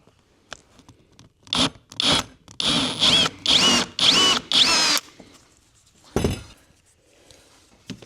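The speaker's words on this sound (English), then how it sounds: "I've drilled the hole underside, so I had to actually thread the steel bolt into the ash block." A power drill bores a hole in a block of ash wood in a run of short, loud, whining bursts with pauses between them, and then one last burst after a short gap.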